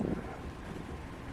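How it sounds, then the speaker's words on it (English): Wind buffets the microphone beside a mountain lake still partly covered in ice in Colorado's Indian Peaks, a steady low rumble that fills the short stretch without pause. "it was still pretty windy."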